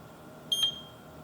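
A multimeter beeps once during a continuity test on a Rohde & Schwarz HMC8042/HMC8043 power supply under repair, a single short, thin high-pitched tone over quiet background hiss.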